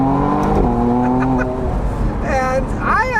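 A 2025 McLaren Artura Spider engine revs and accelerates, its pitch climbing in sweeping rises, loud and close, with a few quick rising whines toward the end.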